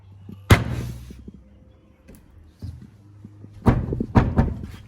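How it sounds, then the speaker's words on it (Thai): Hard knocking on a closed door in an abandoned house, heard as a lone thump early on, then a loud cluster of sharp raps near the end, with quiet gaps between. "ประตูนี่มันปิดอยู่นะ จะลองเคาะดูนะมีคนอยู่หรือเปล่า"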